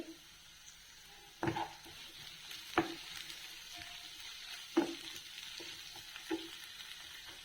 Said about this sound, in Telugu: కరేపాకు కూడా వేస్తున్నాను మూత పెట్టి మగ్గనిద్దాం ఈ టమాటా ముక్కలు మగ్గుతున్నాయండి